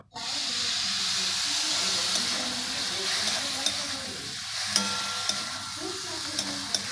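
Soybean mince sautés in a pan as water goes in, giving a loud, steady hiss and sizzle with a few sharp scraping clicks of the spatula toward the end, up close.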